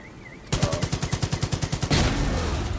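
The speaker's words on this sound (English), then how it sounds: "Nope, there's the explosion." A flipped gas tanker explodes in Far Cry 5: Dead Living Zombies, heard as a sudden loud burst of rapid regular blasts that ends in a sustained roaring rumble.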